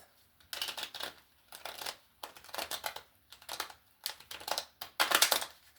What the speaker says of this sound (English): oh my Goodness, I can barely shuffle the cards here.